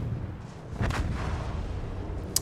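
A torpedo strikes a ship in a naval warship battle game: a low, rumbling blast swells up around the one-second mark and holds as a sustained roar over constant engine and sea noise, ending with a small sharp pop.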